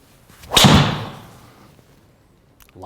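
A PXG Gen6 0311 driver strikes a golf ball indoors, making a single sharp, loud crack that rings and decays over about a second in the room.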